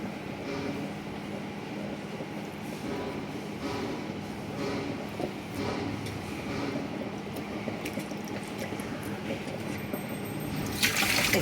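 Coriander leaves being rinsed in water in a home kitchen, with soft continuous splashing and swishing, occasional clinks of a bowl, and a brief louder burst of running water near the end.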